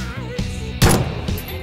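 A single loud gunshot crack from the PUBG (PlayerUnknown's Battlegrounds) video game, close and abrupt amid low game ambience.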